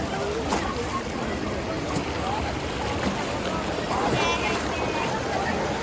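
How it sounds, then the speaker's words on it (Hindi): Ganges river at Rishikesh in flood, rushing water and high waves making a loud, constant roar that fills the whole stretch, with wind buffeting close by. "कितनी ऊंची ऊंची लहरें उठ रही हैं।"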